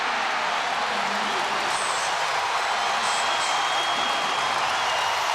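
Roaring crowd at Rupp Arena during a 2007 Kentucky versus Tennessee college basketball game, a loud continuous wash of cheering filling the arena, steady and undivided with faint whistle-like tones above.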